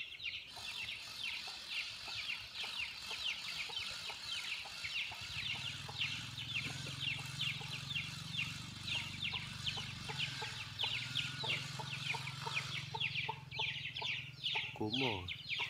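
Chickens cluck and chatter steadily throughout, close and dense, with a constant insect-like buzz and a low hum joining midway; some are reportedly sick with flu, and one late squawk rises above the flock.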